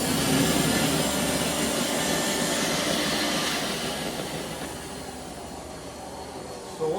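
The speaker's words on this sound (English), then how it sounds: "I can just stick the vacuum cleaner in here and draw the chips out" A vacuum cleaner drones loudly with a rattling, gritty hiss of metal chips being sucked out of an engine cylinder bore, then the pitch drops as the airflow changes near the end.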